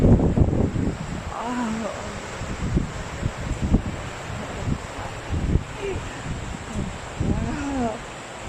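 Strong wind roars and gusts through heavy snowfall in Kanagawa, a steady rough rush with buffeting bursts, while voices exclaim now and then over it.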